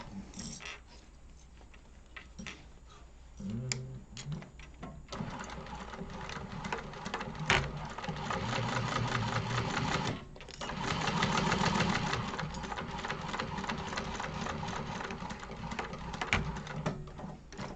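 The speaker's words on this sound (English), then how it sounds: "So I just basted those on with an 1/8 of an inch seam allowance." A sewing machine basting fabric with an eighth-inch seam allowance while sewing an organizer bag. Its steady mechanical whirring runs in several stretches of varying speed, with short pauses between.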